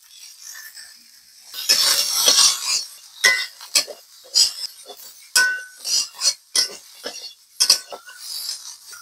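Bitter gourd frying with turmeric in oil in a pan: close, irregular metal clinks and scrapes of a spatula against the pan, with short bursts of hissy sizzle between quieter pauses.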